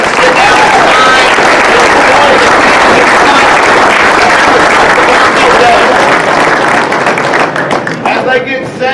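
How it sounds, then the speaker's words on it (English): Loud, sustained applause from a large crowd, dense clapping filling the whole stretch and thinning slightly toward the end. "huge round of applause for Bryndon and Noah."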